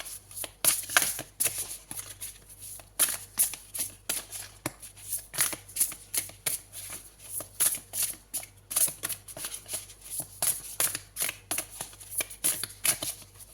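Tarot cards riffled and shuffled by hand in quick, repeated bursts of crisp papery flicks, close and fairly loud, with no voices.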